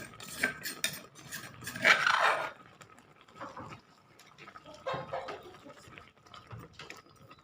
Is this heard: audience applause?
no